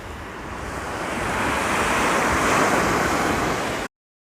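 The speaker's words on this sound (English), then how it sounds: "We've got a beautiful, flat, calm ocean." Gentle surf washing onto an Australian beach on a flat, calm ocean, a steady broad wash that swells in loudness and holds before cutting off, with light wind noise on the microphone and no voices.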